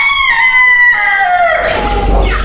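An aseel rooster kept in a cage crows once, close and loud. The call is a drawn-out, strained cry that breaks into rough, fading noise at the end.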